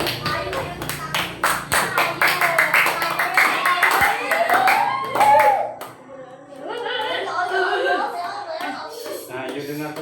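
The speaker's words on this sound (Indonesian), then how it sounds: "Ya, tepuk tangan dulu untuk teman kita yang di depan." Children in a classroom clap for classmates standing at the front, a dense burst of quick hand claps with kids' voices mixed in, fading after about six seconds into chatter and a few scattered claps.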